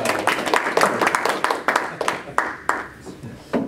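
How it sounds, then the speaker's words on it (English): An audience applauds a speaker at a tech talk; brisk, overlapping hand claps hold steady for a few seconds, then thin out into a few louder, isolated claps. "And you got more applause."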